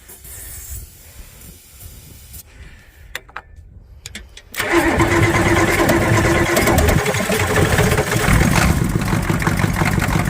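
A 1991 Ford 7.3 IDI diesel engine cranks with a few sputters and short bursts, then catches and settles into a loud, rough, steady idle with hiss from exhaust leaks.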